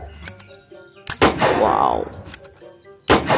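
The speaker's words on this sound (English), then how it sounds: "Sound like toy gun" A Nerf Alpha Strike toy blaster firing a few sharp, close snaps, with a rattling, whooshing burst between the shots and a brief exclamation at the start.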